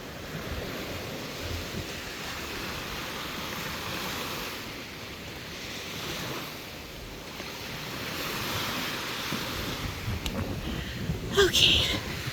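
Ocean waves washing onto a beach at a resort wedding site, a steady broad rush of surf mixed with wind noise on the microphone, with a person talking faintly over it.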